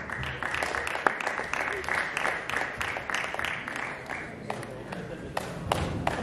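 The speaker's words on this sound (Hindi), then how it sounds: "तालियां बजाइए" Audience applause at a poetry gathering for disabled poets, scattered claps rising and falling over a continuous murmur of voices, moderately loud and somewhat uneven throughout.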